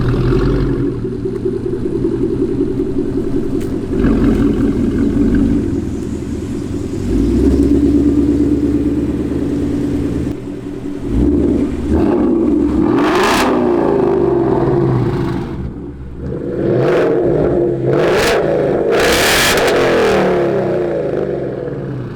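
A 2020 Mustang GT with a Borla ATAK exhaust rumbles loudly and continuously while driving, the deep engine drone swelling and easing with several sharper revving bursts toward the end.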